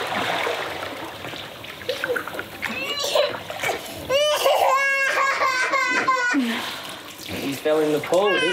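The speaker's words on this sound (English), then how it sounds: "You fell in the pool." A child splashes into a pool, with water sloshing while a child cries and chatters and other voices and laughter continue over the noisy, close scene.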